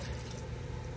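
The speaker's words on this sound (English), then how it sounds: "What I'm going to do now is I'm going to add my milk" Milk pours steadily into a potato soup mixture on a stove, giving a continuous close liquid splashing and trickling with no talk over it.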